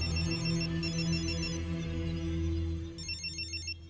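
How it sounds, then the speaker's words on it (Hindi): A telephone rings with a repeating electronic trill in bursts, heard over a low sustained music-like drone in a film scene, moderately loud and close. "शायद उसी का फोन है"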